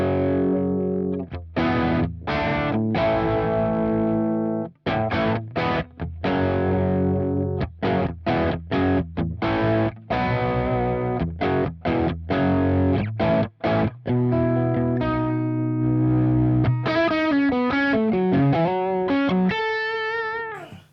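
A loud distorted electric guitar chugs out rhythmic chords with short pauses, then ends with a few sliding, bent notes.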